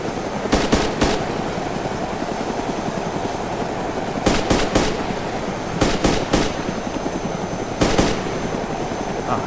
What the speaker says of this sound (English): Heli. Helicopter. Down.